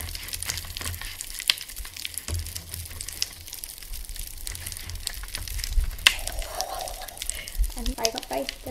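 Popping candy crackles and fizzes after water is added, a dense scatter of tiny close pops and sizzles, with a voice speaking over it.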